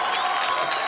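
Dense applause from a crowd, a continuous wash of clapping with no pauses.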